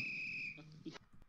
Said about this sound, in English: That's not how a regular whistle sounds.